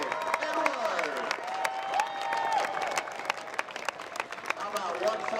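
A stadium crowd at a Mansfield versus Princeton high school football game claps and cheers in a steady, dense wave of applause, with a voice carrying over it throughout.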